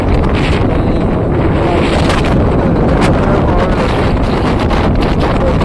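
Strong wind roars continuously into the microphone, a loud, dense rumbling buffet with no pauses.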